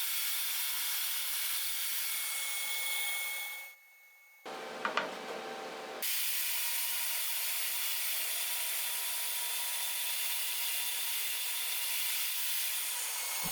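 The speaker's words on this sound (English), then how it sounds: "When the glue had dried, I cut this large board down into 2 smaller squares." A large glued-up wooden board being sawn into squares with a power saw: a loud continuous cutting whine that cuts out briefly, then resumes and runs steadily to the end.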